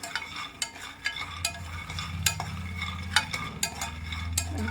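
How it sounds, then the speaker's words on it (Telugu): Dry roasting of peanuts and lentils without oil in a pan over a medium flame, a steady rattling stir with repeated sharp clinks of spoon against metal and a faint low hum underneath. "ఆయిల్ లేకుండా పప్పులు వేయించేద్దామండి. ఆయిల్ వేసుకోవాల్సిన అవసరం ఉండదు. మీడియం ఫ్లేమ్లో పెట్టుకొని మనం వేయించేసుకుందామండి"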